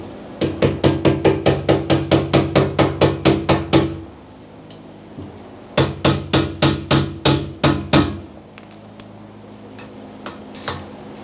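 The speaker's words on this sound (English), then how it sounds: "I'm going to have to tap it on here to get these clamps off." Hammer tapping fuel tank clamps loose on a 1995-2004 Toyota Tacoma: close, loud metallic strikes in a steady rapid run of about fifteen, a pause, then a shorter burst of about seven, followed by a few faint knocks.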